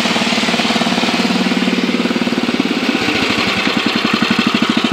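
An old snow blower, about fifty years old, has its small engine running steadily, a loud, close, rapid chugging putter with no let-up throughout.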